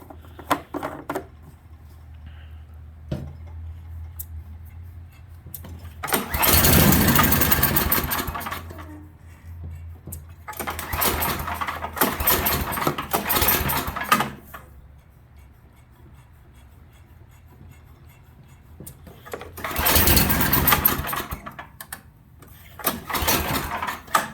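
A snowblower engine, either an Ariens 926LE 9 HP 26-inch or a Craftsman 5 HP 24-inch, cold-starting and idling outdoors. A rapid mechanical ticking runs throughout, swelling into three louder, rougher bursts.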